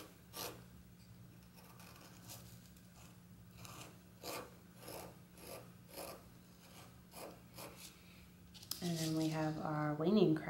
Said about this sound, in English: scrape off the rest of that icing or filling, depending upon the cookie you're using